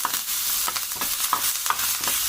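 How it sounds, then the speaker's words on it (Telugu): Cumin seeds, dried red chilies and curry leaves sizzle in hot oil while being tempered for a cucumber chutney, a steady close crackle with repeated sharp spits and stirring scrapes, no voices. "మనం దోసకాయ పచ్చడిలో పోపు వేసుకున్నాం"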